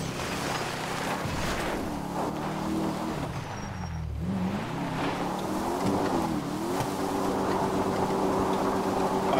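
A car engine in the game GTA revs and surges continuously, its pitch rising and falling as it accelerates and climbs, loud and steady with no talking.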